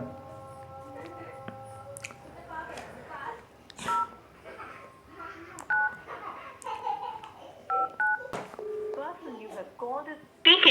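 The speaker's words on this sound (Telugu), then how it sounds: "ఒకసారి మనం ఫోన్ చేద్దాం వీళ్ళకి ఫోన్" A series of phone keypad tones, then a recorded voice message playing through the line, with more beeps scattered between the spoken phrases.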